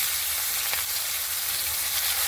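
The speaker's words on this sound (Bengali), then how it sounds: "পেঁয়াজটাকে ভালো করে ভাজতে হবে, ভালো করে নাড়িয়ে ভালো করে ভেজে নেবে।" Onions fry in a pan, giving a dense, steady sizzling hiss with faint stirring scrapes, fairly loud and close, no voices over it.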